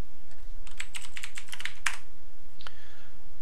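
Fingers type commands on a computer keyboard while playing the text game Core MUD: a close burst of rapid clicking keystrokes, a pause, then a single sharp key press and a fading tap.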